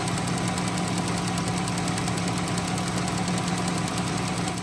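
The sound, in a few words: faint tick from Ram Promaster engine compartment, purge valve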